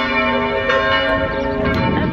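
Church bells ringing in Switzerland, sustained rich metallic tones overlapping and humming loudly throughout, with no voices.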